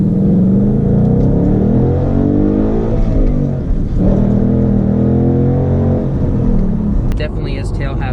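Ford Mustang accelerating hard out of a corner, its engine note rumbling and climbing loudly for several seconds, with a brief dip before building again.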